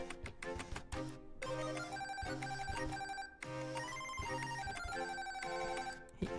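A phone ringtone plays a loud, steady melodic electronic tune of repeating tonal phrases, close by and alone for several seconds.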